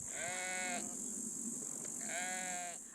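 Sheep and goats in a Mongolian nomad herd bleating, two clear wavering calls separated by a short pause against a faint steady background hiss.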